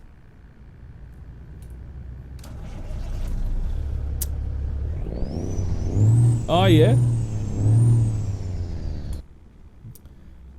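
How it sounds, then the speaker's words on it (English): A Detroit Diesel engine in a modded International Prostar truck in American Truck Simulator idles low, then revs up in a couple of swelling pushes before cutting off, with someone briefly talking over it. "So, Detroit diesel. Now that's definitely a different sound."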